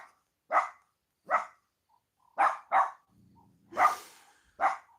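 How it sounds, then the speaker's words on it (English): A dog barks six times in sharp, separate bursts spaced about a second apart, loud and close, with a faint low rumble between two of the barks. "She's barking at something, but you don't see it."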